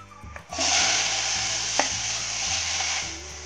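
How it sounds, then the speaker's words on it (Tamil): Onions hit a hot pan for a red snapper fish gravy with garlic and curry leaves, bursting into a loud, close, continuous sizzle after a brief clatter, fading slightly toward the end. "வெங்காயம் போட்டோமா, இப்போ செவரும் வறுக்கலாமா"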